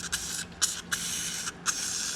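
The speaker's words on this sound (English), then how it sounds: "Let's spray some more of that stuff in there." Spray can of penetrant hissing in four short, close bursts with brief gaps between them.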